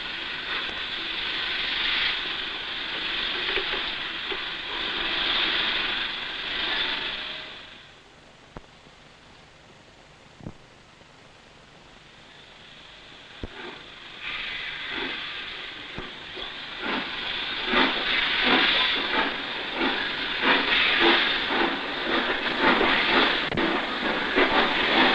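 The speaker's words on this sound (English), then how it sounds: "And here 6 are being attached to our stopping passenger train, which will take them to Carlisle" A 1963 steam passenger train at Appleby on the Settle to Carlisle line has milk tank wagons attached, with loud hissing steam bursts, a quieter gap with a few clanks, then rising rhythmic chuffing and hiss.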